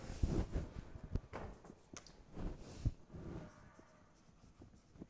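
Chalk or marker scratching out a heading on a board in a classroom, a faint irregular run of short strokes and taps with soft scuffs, no talking.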